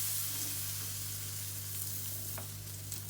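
A pancake in a buttered pan gives a steady, soft sizzle with light crackling, fairly faint and close, over a constant low hum, with no voices.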